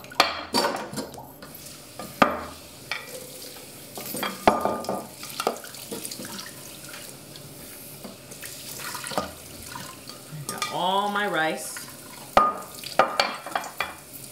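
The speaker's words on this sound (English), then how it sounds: "this is already my 3rd time rinsing this rice" White rice rinsed in water, with sloshing, swirling and splashing as grains are rubbed and the water moves, plus a brief stretch of running or pouring water, close and moderately loud with no speech.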